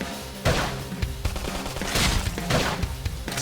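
Bursts of gunfire and impacts in the video game Xenoblade Chronicles X, several loud sharp blasts spread over a few seconds amid dense battle noise.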